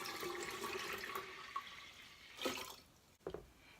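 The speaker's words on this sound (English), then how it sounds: "And then I'm going to add a half a gallon of filtered water." Half a gallon of filtered water pours into a batch of pumpkin kombucha tea, a steady rushing stream that tapers off, followed by a few brief splashes and drips near the end.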